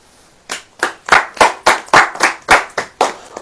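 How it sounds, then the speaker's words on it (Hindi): A congregation at a Hindi Christian sermon claps together in unison, giving about ten loud, evenly spaced claps in a brisk rhythm with no talking over them. "ताली बजाइए।"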